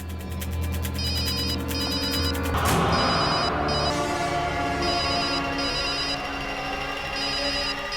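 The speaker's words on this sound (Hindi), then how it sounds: "फोन की आवाज तो यहीं कहीं से आ रही।" A phone rings with a repeating electronic ringtone, bursts of bright beeps in a regular pattern, fairly close and clear.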